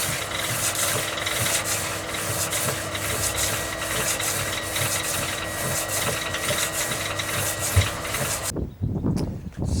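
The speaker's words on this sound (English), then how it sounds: "Hit it with a sanding block now" Wooden guitar fretboard being rubbed with a sanding block carrying fine 1200-grit paper, a close, steady rasping scrub in repeated strokes that stops abruptly near the end.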